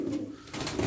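A brief, steady run of soft cooing from tumbler pigeons, close and moderately loud, with a second swell of calls near the end and no talking.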